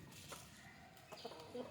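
Country chickens by their coop, a hen squaring off against a rooster, give faint, scattered clucks and short squawks over a quiet outdoor background, with no talking.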